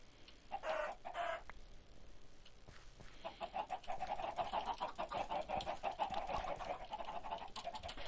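Minecraft chickens cluck in short bursts near railway tracks, first a couple of quick clucks, then a longer run of repeated soft clucking, fairly faint and heard alone without talk.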